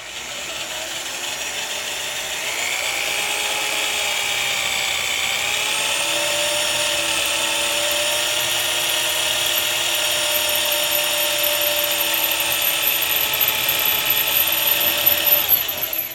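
Power drill with a bit boring a hole through the second side of a DeWalt miter saw stand, a steady high whining drone running close and loud for the whole stretch, alone with no voices.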